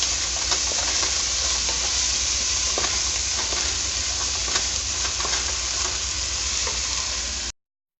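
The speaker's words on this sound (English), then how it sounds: "So basically you're gonna fry the onions on high heat until they get golden brown." Onions frying on high heat in a stainless steel pan, a constant loud sizzle and hiss with quick scraping stirs, ending abruptly.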